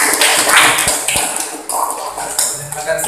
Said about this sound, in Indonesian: kasih aplaus dulu dong